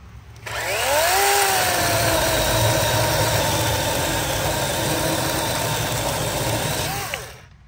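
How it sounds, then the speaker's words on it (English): A DeWalt 12-inch brushless cordless chainsaw on its 9 amp-hour battery with stock factory chain spins up with a rising whine, cuts through a 4-inch log with a steady loud buzz, then winds down. "Stock factory chain on the Dewalt 12-inch brushless with the 9 amp hour battery, best battery for it, cutting a 4-inch log."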